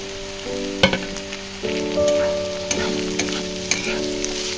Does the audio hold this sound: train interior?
no